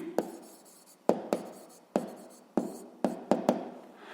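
Pen or chalk marks go down in separate bursts as a math solution for a sixth-grade exercise is written out: about seven short, crisp scratching strokes spaced irregularly, each fading quickly, with no speech.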